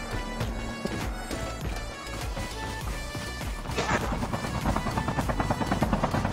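A helicopter in the Call of Duty Mobile shooter game gives a rapid rotor chop under busy gameplay effects and music, growing louder and denser toward the end.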